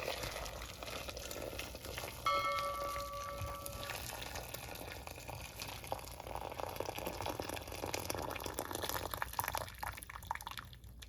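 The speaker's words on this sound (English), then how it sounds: "pour the boiling water over the stockfish" Faint, continuous watery splashing and bubbling as boiling water is poured over stockfish, with a brief tonal ring near the start.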